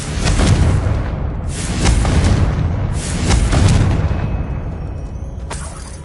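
A Confringo fire spell from Hogwarts Legacy bursts in loud booming explosions, several heavy blasts in succession with rumbling tails, close and dominant.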